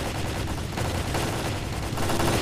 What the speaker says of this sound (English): Of course these dumb assholes just shoot guns